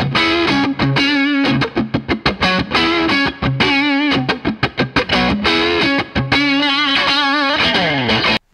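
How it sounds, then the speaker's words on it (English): Overdriven rock guitar played through channel two of a Bad Cat Jet Black amp: loud, crunchy distorted chords and riffs with choppy, rhythmic stops, played alone without any talking. "Channel two is where you get your rock, overdriven tones."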